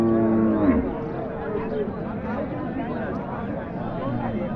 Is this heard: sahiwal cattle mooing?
yes